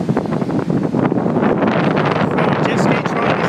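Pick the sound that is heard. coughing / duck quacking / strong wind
strong wind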